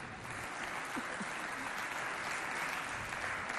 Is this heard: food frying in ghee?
no